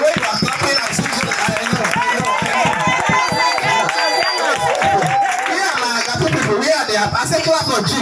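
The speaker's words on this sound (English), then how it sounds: "the way you are clapping and singing," Church congregation clapping in rhythm and singing together during a lively service, steady claps over many voices with some cheering mixed in.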